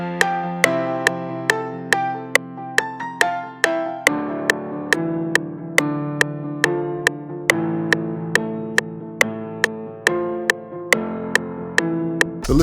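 Half-time piano for the verse of an FL Studio trap beat, with sustained chords changing slowly under sharp, regular ticking hits throughout.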